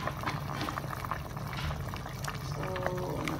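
Pork bone stew (nilagang baboy) with meaty bones bubbling in a pot, a steady low rolling boil with soft watery gurgles and faint clinks throughout.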